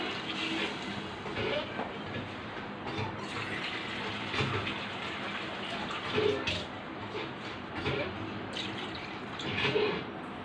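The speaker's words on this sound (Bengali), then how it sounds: "এখন জল দিয়ে দিলাম" Water is poured into a cooking pot of rohu fish curry with potatoes, long beans and pointed gourd. The pouring rushes in soft splashy surges under kitchen background noise.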